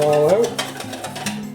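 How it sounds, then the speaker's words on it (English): A whisk beats roux into a chicken velouté sauce in a pan, making a string of soft, brushy strokes, with a brief voice-like tone at the start. "Whisk that all out."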